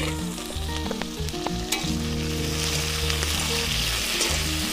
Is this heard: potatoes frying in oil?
yes